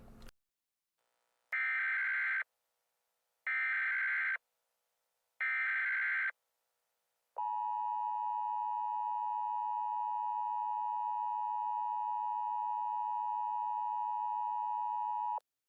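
Emergency Alert System tones: three short bursts of a harsh buzzing attention signal, then a long steady two-tone alert that drones on loud and unbroken, with no voices.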